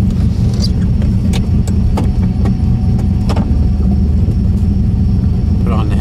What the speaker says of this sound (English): make some dyno pulls on pumpgas